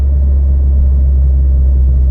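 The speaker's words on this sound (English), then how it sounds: "That's what's so great about the manual mode, because the engine brakes so hard." A heavy truck's engine brakes after a downshift in manual mode: a steady, heavy low rumble drones on without break, loud and close, with no rise in revs.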